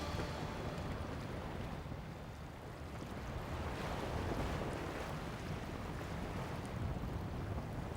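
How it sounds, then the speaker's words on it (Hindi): Steady sea surf washes in continuously at moderate distance, a broad rushing roar with slight swells in intensity and some wind noise, with no talking. "सिर्फ समंदर की आवाज है।"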